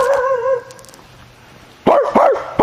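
A dog, Lolly, gives a quick series of close, loud barks and yips near the end, after a faint whine and a long quiet stretch.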